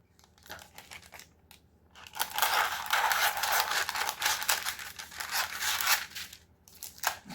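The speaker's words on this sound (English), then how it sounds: "All right, I'm going to get scissors." Kitchen scissors snip through freshly harvested garden herbs in a quick run of crisp, close crunching cuts with crinkling leaves, after a few scattered clicks.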